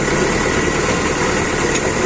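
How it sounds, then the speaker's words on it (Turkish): A New Holland 7056 tractor engine running steadily on icy ground, a loud, continuous rumbling drone with dense mechanical noise and no pauses. "Ah, ulan 70-56 sesine kurban oldum traktör"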